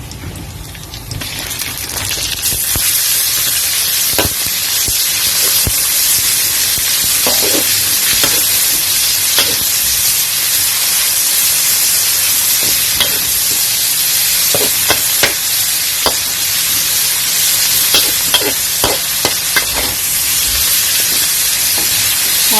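Pork and garlic frying in a pan for a Thai mixed vegetable and pork stir-fry, a steady loud sizzle running throughout with scattered scrapes and clicks of stirring, no voices.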